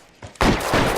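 Gunfire in the video game L.A. Noire: a faint shot or two, then a loud, dense burst of sustained firing that fills the rest of the moment up close.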